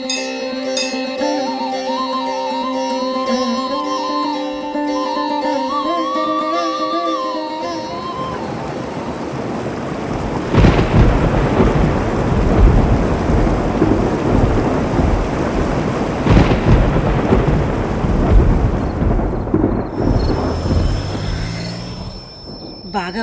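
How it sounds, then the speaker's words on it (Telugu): A heavy thunderstorm breaks with rolling thunder and steady pouring rain, loud and close, following a stretch of music at the start. "బాగా వర్షం పడినట్టుందే"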